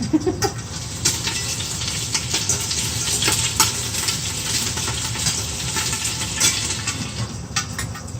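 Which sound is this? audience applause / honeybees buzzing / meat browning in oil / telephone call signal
meat browning in oil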